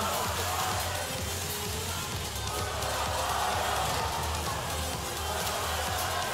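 A crowd at a robotics competition match in a large arena gives off a steady, distant roar of cheering and murmur, with no distinct voices standing out.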